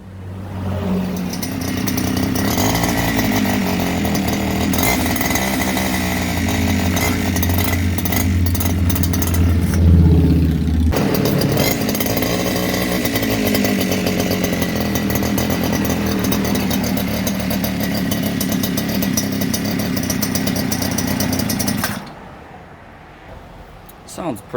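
Chinese 49cc two-stroke mini bike engine kit mounted on a mini chopper frame runs steadily with a loud, raspy buzz for about 22 seconds, a brief rev near the middle, then cuts off abruptly into near silence.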